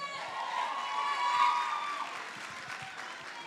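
Graduation ceremony applause from an audience, a steady wash of clapping and some cheering that swells around the middle and then eases off, with a voice faintly audible underneath.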